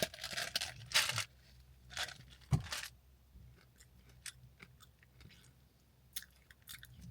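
Close, quiet chewing of crunchy berries with sharp crunches and crackles at irregular intervals, something crisp being bitten and ground.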